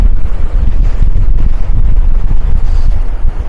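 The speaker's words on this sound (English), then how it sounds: "can't see how much the wind is affecting it, which is picking up again" Strong wind buffets the microphone high on Tablelands mountain in Newfoundland, a loud, close, gusting roar of low rumble that swells and dips without pause, with no speech.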